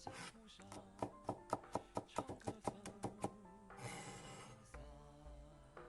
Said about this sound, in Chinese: 再切点姜末和葱花备用。